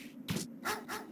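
Dog barking in the video game Mega Man Legends, two or three quick yapping barks, close and fairly clear, alone without talk.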